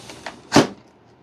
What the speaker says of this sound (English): I heard it click when it slammed in there.